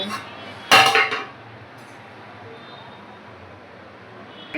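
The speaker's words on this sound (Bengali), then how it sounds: "এবার ঢাকনাটাকে আস্তে করে খুলে" A metal pot lid is lifted off boiling water with one loud clanking rattle, followed by a faint steady bubbling.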